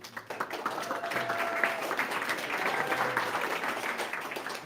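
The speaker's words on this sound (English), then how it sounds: "So give a warm round of applause" A demo day audience in Berlin claps for a presenting team, steady dense applause that holds at an even level throughout with faint voices mixed in.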